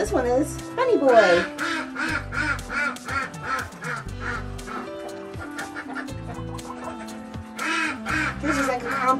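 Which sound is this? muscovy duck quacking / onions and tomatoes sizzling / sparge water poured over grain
muscovy duck quacking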